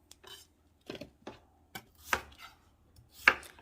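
Knife chops through sweet potato in a handful of sharp, uneven strikes on a board, close and fairly loud, with short quiet gaps between cuts.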